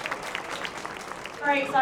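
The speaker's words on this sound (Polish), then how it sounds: "A teraz ręce w górę i oklaski dla Daniela Ricardo." A crowd applauds for Daniel Ricciardo, a dense patter of clapping under a voice, swelling louder toward the end.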